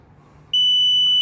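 A Hansshow power trunk fitted to a Tesla Model 3 gives one steady, piercing electronic beep that starts abruptly and sustains close and loud over a quiet background.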